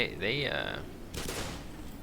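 A gun in the Half-Life video game fires a quick burst of loud shots after a short synthetic tone, then a noisy blast trails off.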